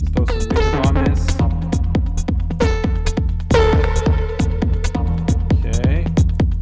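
An OP-XY synthesizer plays a hard techno beat drenched in reverb, punchy repeating kick hits with tonal stabs and a washy tail, loud and driving with no talking.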